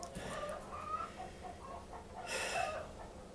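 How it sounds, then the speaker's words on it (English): Chickens cluck and cackle in a steady, close chorus, with a brief louder burst of squawking near the end and no voices. "Listen to those chickens cackling, and the rooster go off here in a minute."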